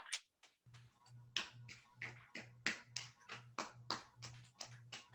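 Hands clapping against the soles of the bare feet in a balance and flow exercise class, a steady series of about a dozen close, soft slaps in even rhythm, with a low hum beneath.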